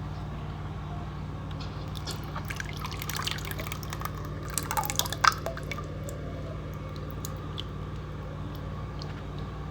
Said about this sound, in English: after stirring, I'm going to strain to make sure that there are no particles